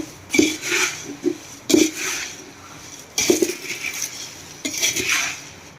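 Puffed rice chevdo is tossed with red chili powder in a metal pan, the spoon giving four spaced bursts of clinking, scraping and rustling rice with quiet gaps between.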